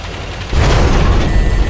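A shell strikes a WZ-111-1G FT tank destroyer in World of Tanks, a sudden loud boom at about half a second that gives way to a sustained rumbling roar of impact and engine noise.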